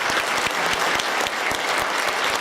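Audience applause for band directors at a district honors band concert, a full, steady roar of clapping from a large crowd, loud and continuous throughout.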